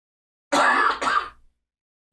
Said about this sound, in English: Pause for the cough.